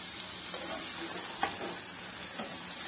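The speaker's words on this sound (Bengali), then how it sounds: "এখন আমি ভালো করে আস্তে আস্তে নেড়ে মিক্স করে দিব।" Soft, faint sizzling from a pan of fried fish with a few gentle scraping stirs, quiet and close.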